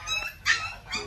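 A Phu Quoc dog outdoors gives short yips or whimpery barks, about three brief close calls within a second, with a faint background of wind or ambient noise.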